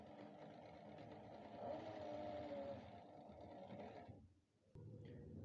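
A sewing machine stitches a kurta collar in a fast, even mechanical whir for about four seconds, then stops briefly and restarts, close and moderately quiet.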